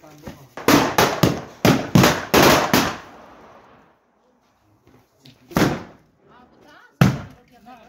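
Firecrackers going off at night: a quick run of sharp, loud bangs, then a pause and two more single cracks, with people talking nearby.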